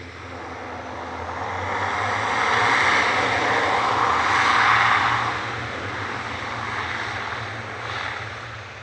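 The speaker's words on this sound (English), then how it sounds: "I can't hear a word you're saying now. Just with the planes around" Aircraft engines roar at Manchester Airport, a loud sustained drone that swells toward the middle and slowly eases off, with no talking over it.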